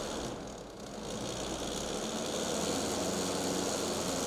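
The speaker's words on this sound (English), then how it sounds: "start the engine and apply a small amount of throttle until the track turns slowly at least 5 complete revolutions" A 2023 Polaris ProStar S4 Indy Adventure snowmobile engine drones at low revolutions with light throttle, track turning slowly, a continuous mechanical hum with a slight dip early on, close and fairly loud.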